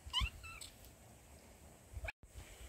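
A cat gives a short meow near the start, followed by faint rustling and a sharp click, with quiet room tone in between.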